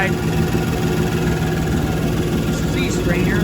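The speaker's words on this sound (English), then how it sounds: "as I rev the engine" A boat's inboard engine runs steadily with a low, throbbing drone and mechanical vibration, holding a fairly even level throughout, with faint higher whines near the end.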